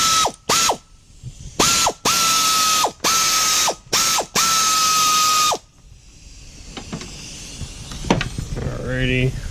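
A ratchet loosening 14mm nuts on eBay coilovers fitted to an Acura Integra gives several quick, loud clicking bursts up close, then falls quiet into softer shop noise and a few words of speech.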